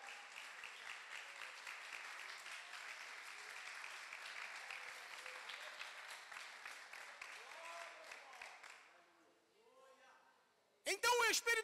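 A church congregation applauds in a sustained, dense patter of clapping that fades out after about nine seconds, followed by a brief quiet and then a few loud bursts of sound.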